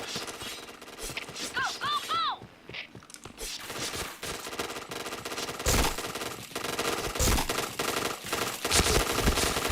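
Rapid video-game gunfire rattles in dense bursts over a busy mix of effects and music, with a voice speaking at times.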